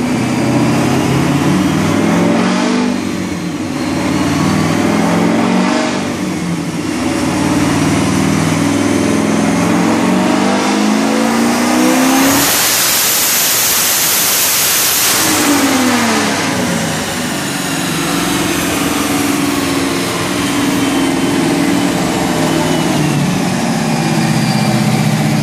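Turbocharged Pontiac WS6 fitted with a Huron Speed bolt-on turbo kit, loud close engine idle broken by one hard rev that builds to a roaring peak and falls back to idle.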